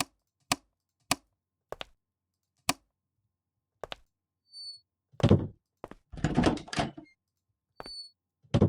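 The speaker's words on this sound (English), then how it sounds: "Why did the toilet door just swing open?" A toilet door swings open in a haunted Japanese apartment in the video game Haunted Property. Several sharp knocking thunks come first, then a rougher, longer rattling creak and a few scattered clicks, with no voices.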